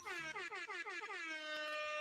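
An air horn sound effect blares in repeated short harmonic blasts that glide downward, then settles into one long sustained honk, loud and alone with no talking.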